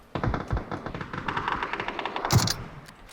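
Video game gunfire, a rapid string of close, punchy shots rattling in quick rhythmic succession for about two seconds, ending with a heavier final crack.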